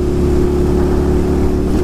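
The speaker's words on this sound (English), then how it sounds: "Oh, that thing's got dual exhaust on it too." A big dual-exhaust 650 motorcycle rides a trail, its engine a loud, close, steady drone with low throbbing pulses the whole time.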